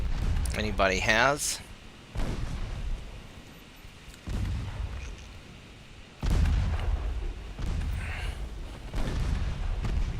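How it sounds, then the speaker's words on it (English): Warship cannon fire in the naval game Ultimate Admiral Dreadnoughts, heard as several heavy booming blasts and rumbling salvos recurring over ten seconds, loud and close beneath someone talking. "Eat cannon fire"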